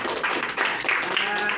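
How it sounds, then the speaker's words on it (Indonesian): Classroom audience applauding at the close of a school presentation, a brief burst of dense, continuous clapping with some voices mixed in. "Oke, tepuk tangan dulu."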